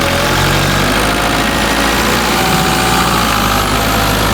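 Sailboat engine idling steadily on a liveaboard boat crossing the Atlantic, a constant loud low rumble with a slight mechanical knock and vibration, no voices.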